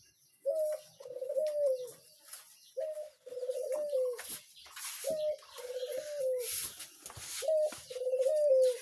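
An Australian dove held in an iron cage coos in repeated soft, hollow phrases, roughly every two to three seconds, close by, with light background rustle and faint chirps.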